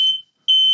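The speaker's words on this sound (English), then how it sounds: "our smoke alarm going off from the bay leaves" A smoke alarm, set off by burning bay leaves, shrieks with a loud, piercing high-pitched tone, cutting off briefly before sounding again, close by and alone.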